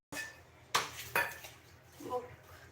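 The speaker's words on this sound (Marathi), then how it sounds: "भांडी वगैरे घासून ठेवते थोडीशी साफसफाई" Dishes, pots and cutlery being washed give a few close, fairly quiet metallic clinks and clatters, with a soft knock near the end.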